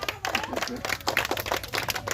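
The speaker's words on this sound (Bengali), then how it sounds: "আমরা করতালি দেবো, প্রত্যেকে করতালি দেবো।" People clap at a village football team introduction in Bangladesh, a lively stream of many hands clapping in quick uneven bursts, close and fairly loud, with a voice faintly underneath.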